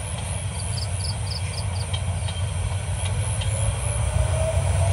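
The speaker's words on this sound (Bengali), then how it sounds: "এই দেখুন একবারে থামে থামে যেতেছে ট্রেনটা, এখান থেকে থামা শুরু করছে, ধীর গতিতে যাইতেছে।" A train rumbles steadily as it slows toward a stop, with low wheel and carriage noise and a few faint high squeals and clicks over a constant rolling drone.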